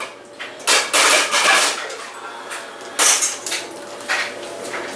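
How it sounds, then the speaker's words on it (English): A non-stick pan handled at a kitchen sink, several clattering metallic knocks and scrapes in short bursts, fairly close, with no talk. "Here is the non-stick pan."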